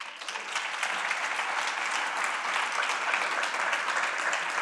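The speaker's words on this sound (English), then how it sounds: "I'm on a time here, so stop clapping." A large audience at a Board of Governors meeting gives strong, even applause, a continuous crackle of many hands clapping close by with no voices over it.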